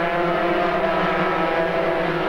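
250cc superkarts of about 80 brake horsepower, with six gears, racing in the 1987 European Championship final at Silverstone. A loud, continuous high-pitched two-stroke engine drone holds steady throughout, with no talk over it.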